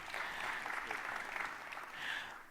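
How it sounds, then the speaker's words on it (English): Audience at a local-news conference panel claps steadily for about two and a half seconds, a soft, dense patter that swells again briefly near the end. "Give him a clap."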